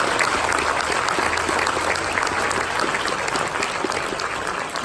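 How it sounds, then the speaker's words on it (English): Sustained applause from a church anniversary congregation, dense steady clapping filling the room at a constant loud level throughout, with no voices on top. "maybe we just give a round of applause to our wives for their faithfulness"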